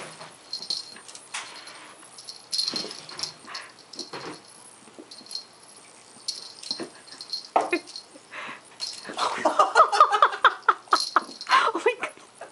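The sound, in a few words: Australian Mist kitten growling while playing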